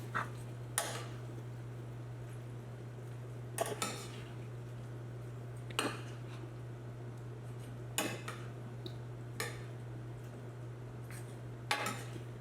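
Sausage, onions and potatoes are tossed together in one pan, making sparse metallic clinks and clanks every couple of seconds. The clinks are fairly faint and sit over a steady low hum.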